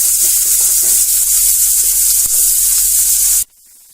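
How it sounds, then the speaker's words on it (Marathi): Onion frying in hot oil in a pan for a mixed vegetable dish, a loud, dense, close sizzle running steadily for several seconds before cutting off abruptly. "आता आपण कांदा घालूया ह्याच्यात कांदा चांगला तेलात भाजून घ्यायचा"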